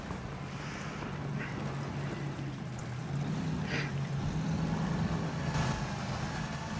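A torpedo boat engine from Battlefield 1 drones steadily with a low hum throughout, mixed with wind and water noise, loud and continuous with no talk.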